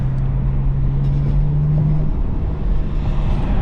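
A BMW M4 in efficient mode gives a low, steady exhaust drone while cruising, with a faint tonal hum running underneath and no burbles or pops.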